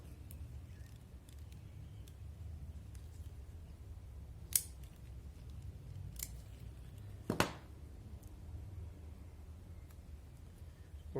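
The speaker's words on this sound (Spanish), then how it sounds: "cortemos las hojas más grandes, porque esto va a deshidratar nuestra rama" Scissors trim the larger leaves off a plant cutting in a home vegetable garden, giving a few sharp, isolated snips spaced seconds apart over quiet background hiss.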